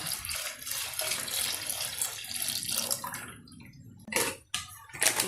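Coconut milk pours in a continuous gurgling stream into melted jaggery, loud and close for about three seconds, then gives way to a few brief splashes and clatters.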